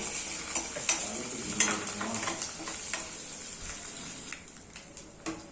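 Chana dal, mustard seeds and cumin fry in oil for a tempering, giving a quiet, close sizzle with sharp pops and crackles and a few clinks of a spoon against the pan, fading slightly toward the end.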